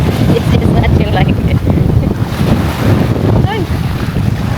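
Strong wind buffeting the microphone in a steady loud roar at Astoria Palawan, with water sounds beneath and faint voices partly masked.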